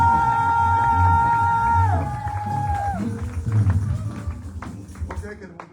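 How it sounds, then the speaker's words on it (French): Church congregation at a special Thursday worship service acclaiming and cheering, a loud crowd roar with whoops and clapping that swells then breaks into scattered bursts, with held musical tones and an amplified voice over it. "Nous l'accueillons avec une acclamation"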